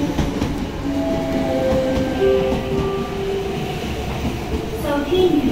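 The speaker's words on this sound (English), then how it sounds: "A train to Shanghai is arriving." Train arriving at a Hong Kong railway platform, a steady loud rumble of rolling cars with faint tonal squeals from wheels and brakes, continuous throughout, with no clear speech.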